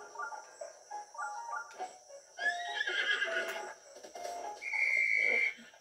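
A horse in The Legend of Zelda video game neighs and whinnies in loud, shrill, wavering calls, with a few hoof clops and faint whistling tones between them.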